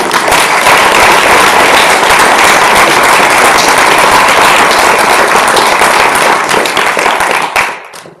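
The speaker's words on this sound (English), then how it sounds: "Let's have one more round of applause." A lecture audience gives a loud, dense round of clapping that holds steady for about seven seconds before cutting off, with no talking over it.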